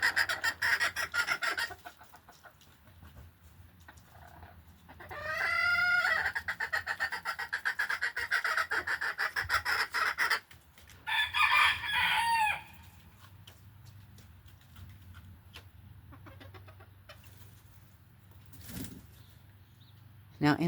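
A broody Duckwing hen cackles and clucks in loud, rising bursts near a nesting basket among other chickens, with a person talking quietly over and between the calls.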